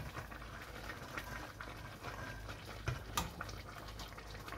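A steady low bubbling rumble of water boiling in a pot while banana blossom cooks, continuous and fairly quiet, with a couple of faint clinks.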